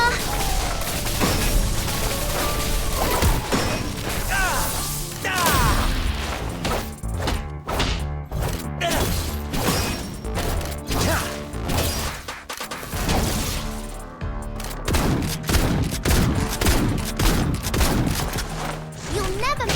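Video game gunfire crackles in dense, rapid bursts with crashes and thuds throughout a hectic combat sequence, loud and continuous, mixed with some voice and game sound.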